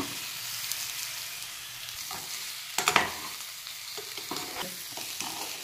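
Boiled tapioca and ginger garlic paste are stirred in a hot pan over a continuous sizzle, with spoon scrapes and clinks against the metal and one louder clatter partway through.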